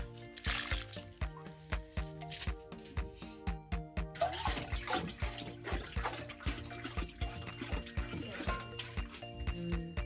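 Peeled food is washed by hand in water for a rural African lunch, giving repeated close splashes, swishes and drips in a steady rhythm; no clear talking.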